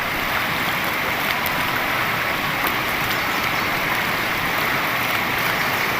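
Floodwater pours over a bridge onto the road after heavy rain in Konkan, making a loud, continuous broadband rush. The churning water stays constant and close, with no speech heard.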